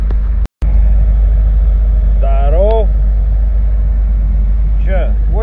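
A borrowed drift car idles at a winter drift event in Novosibirsk, giving a loud, steady low engine rumble close by as someone talks over it.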